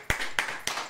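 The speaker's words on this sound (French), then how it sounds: "Applaudis pour moi, chaud." Three sharp claps spaced about a third of a second apart, close and fairly loud, with no talking over them.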